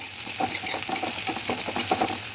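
Onions fry in a pan for a village-style chicken recipe, giving a steady close sizzle broken by scraping and clinking as they are stirred, with no talk.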